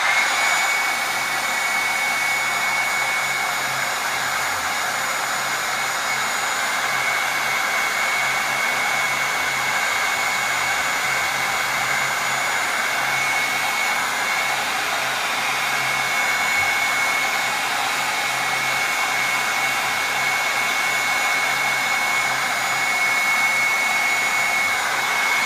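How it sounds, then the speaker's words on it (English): A heat gun blows hot air across an acrylic paint pour, a steady, loud, unbroken whoosh that runs for the whole stretch with no voices over it. "I'll just use my heat gun once again."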